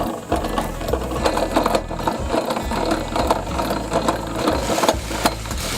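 Hand crank lowering a trailer's leveling jack, a steady fast mechanical whirring and ratcheting that runs close and loud almost without a break.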